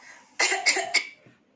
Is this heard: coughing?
yes